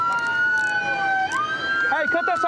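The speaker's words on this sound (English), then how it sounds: "cut that siren." A police car siren wails loudly and close, a steady rising and falling tone that gives way to rapid warbling yelps near the end.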